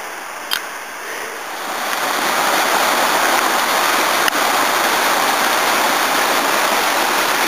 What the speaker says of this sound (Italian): Qui siamo alla cascata dei Massi Corbi